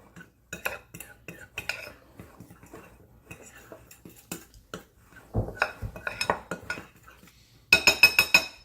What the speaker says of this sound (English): I'm just gonna mix this all in there.